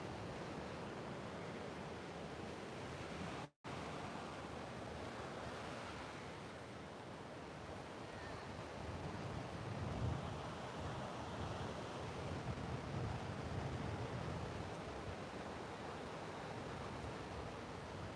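Ocean waves wash onto an oceanfront shore under a light breeze, a soft continuous surf rumble that swells slightly toward the end, heard faintly and alone apart from one brief dropout.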